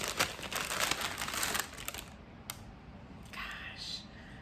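Crinkly yarn skeins handled up close, giving loud crackling and crinkling that fades into softer rustles, with a voice speaking briefly partway through.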